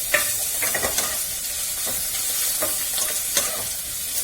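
Garlic paste frying in a pan after golden onions, for a spicy chicken bhuna masala: a steady, close sizzle with scraping stirs breaking through it at irregular intervals.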